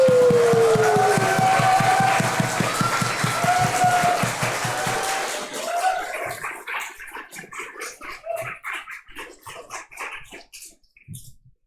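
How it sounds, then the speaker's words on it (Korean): A church congregation at a Korean praise service claps and cheers to welcome a missionary speaker, the sustained crowd roar and dense clapping gradually giving way to scattered, rhythmic claps that thin out and fade near the end. "열렬히 함성과 박수로 우리 맞이하고 환영하고"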